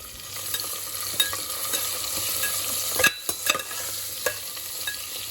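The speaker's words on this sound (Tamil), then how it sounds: "வதக்க ஆரம்பிச்சிடலாம். இது நல்லா ஹை ஸ்பீடில் ஒரு 5 நிமிஷம் வதங்கட்டும்." Onions for mutton biryani sauté over high heat after green chillies are tempered, producing a loud, constant sizzle with frequent scraping stir clatters and a few sharp knocks, with no voices.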